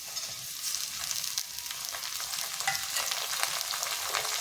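Tomato and fenugreek curry sautéing in a pan over low flame, a close, continuous crackling sizzle with scraping stirs mixed in, steady and moderately loud, no voices.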